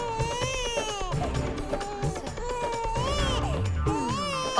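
An infant wails steadily and close by, with repeated sobbing cries that rise and fall without a break through the short stretch.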